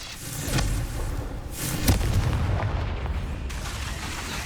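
Confringo fire blast spells going off in Hogwarts Legacy, several booming explosive bursts spaced a second or so apart over steady game background noise, moderately loud.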